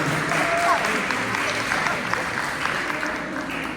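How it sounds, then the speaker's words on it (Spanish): A church congregation claps in steady, continuous applause that fills the room, with some voices mixed in. "Demos un aplauso de gratitud a nuestro Señor."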